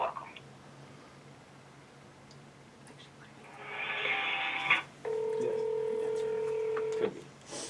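Touch-tone dialing tones sound during a call transfer: a burst of faint clicks, then a short run of DTMF beeps and a steady dual-tone held for about two seconds, fairly close and clear over a quiet line.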